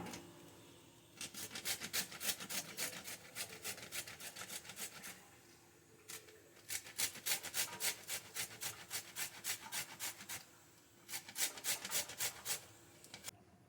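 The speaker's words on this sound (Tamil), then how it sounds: "இதில் வச்சு நல்லா சீவி எடுத்துக்கலாம்" Rapid rhythmic rasping of beetroot being grated, in three bursts of quick strokes separated by short pauses, close and clear.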